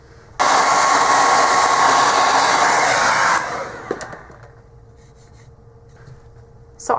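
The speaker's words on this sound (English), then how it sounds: "I'm going to grab my hair dryer so I can make the process go a little faster." A hair dryer blows on fresh paint, a loud steady whoosh that starts abruptly, runs for about three seconds, then cuts off, followed by quiet handling clicks.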